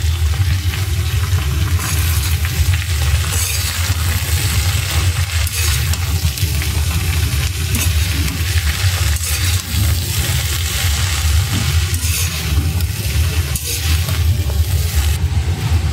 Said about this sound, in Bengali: মশলাটা কষিয়ে নিচ্ছি।